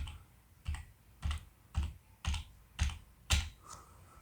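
Seven evenly spaced key presses on a computer keyboard during a PowerPoint slideshow, each a crisp close tap with a soft thump, with no speech.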